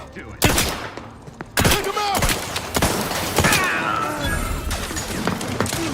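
Turret gunfire in the sci-fi shooter Outer Worlds 2, a rapid series of sharp blasts and crashing impacts spaced across the span, loud and close, with a voice underneath.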